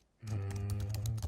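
Typing on a computer keyboard into a font-management library search, a steady run of close keystrokes over a low constant hum, lasting about a second.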